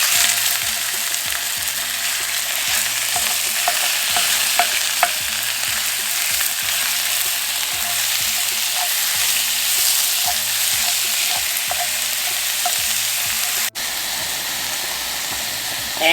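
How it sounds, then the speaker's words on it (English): Ground turkey sizzles and fries in a pan for a spaghetti sauce, a steady close crackle with repeated scraping stirs throughout and no talking. "Now I'm going to add the ground turkey."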